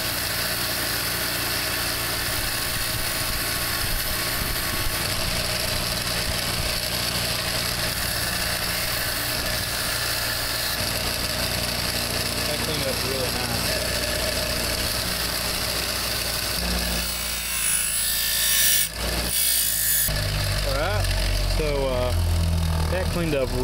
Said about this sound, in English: this particular grinder has a wire brush on here, and so I'm just going to use that to clean this up a little bit